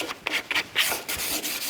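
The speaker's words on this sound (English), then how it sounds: "I'm only going to sand the top front edges" Sandpaper rubs back and forth along the top front edges of a wooden bulkhead panel for a pedal car, making close, repeated raspy strokes in an uneven rhythm with no talking.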